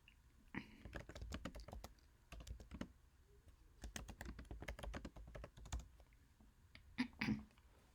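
Bursts of quick, quiet keystrokes on a computer keyboard arrive in uneven runs separated by short pauses, close and clear against a near-silent room.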